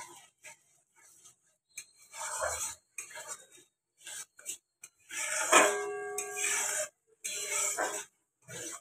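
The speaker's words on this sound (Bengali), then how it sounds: "গ্যাসের ফ্লেমটাকে মিডিয়াম করে মশলাটাকে ভালোভাবে মিশিয়ে নেব" Spice paste being stirred and scraped in a pan over a medium gas flame, with intermittent soft rasping strokes and a few clinks, close and fairly quiet with pauses between movements.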